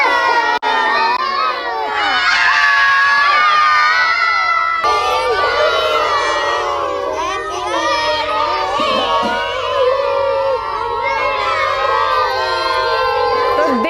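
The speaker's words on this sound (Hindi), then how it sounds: "एक्साइटमेंट इतना है, लगातार 5 मिनट तक सिर्फ हूटिंग ही हुई है" At a birthday celebration, a packed room of children and adults hoots, shouts and cheers nonstop, a loud, shrill wall of young voices that swells and holds for the whole stretch.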